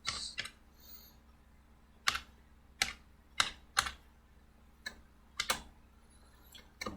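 Keys clack on a computer keyboard as code is typed, a sparse series of separate sharp taps, close and fairly quiet, with no voices.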